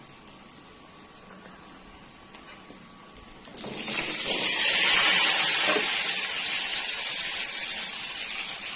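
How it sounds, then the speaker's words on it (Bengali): Potatoes frying in a pan with cumin and bay leaf: a faint hiss at first, then a loud, steady broadband sizzle that swells and holds, with no talking. "আমি এবার আলুটা ভেজে নেব,"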